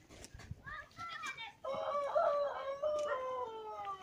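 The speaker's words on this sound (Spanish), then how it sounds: "Mi gallo," A rooster crows in one long, loud call outdoors at a home, with children's voices and chatter around it.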